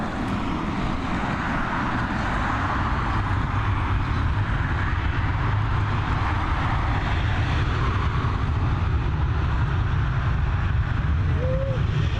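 An Emirates airliner at Dublin Airport produces a steady, loud jet engine roar that fills the whole stretch without a break.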